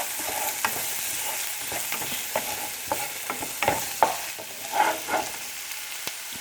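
Salted red herring simmers in a pot, giving a low steady bubbling hiss broken by occasional soft knocks and scrapes, close by and without speech.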